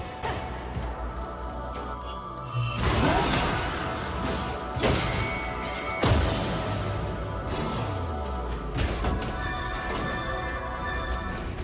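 Blocks detonate in Astral Chain, with several loud crashing impacts and whooshing bursts spaced out over a busy stretch of game music and effects.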